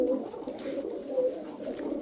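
A seven-year-old black piebald male pigeon coos close by, a low, steady, throaty rolling call that carries on without pause, with no talking.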